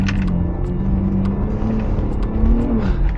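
A Ford Bronco Raptor off-road truck drives with a loud, close engine drone and a deep rumble that rises slightly toward the end, no talk.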